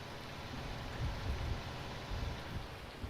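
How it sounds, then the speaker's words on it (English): On a farm, steady rain patters loudly over a low, continuous rumble of distant thunder, with no speech. "I can hear the thunder rumbling away in the background there"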